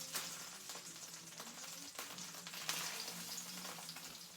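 Food frying in a pan on a home stove, giving a steady close hiss of sizzling with scattered sharp pops and crackles throughout, no voices.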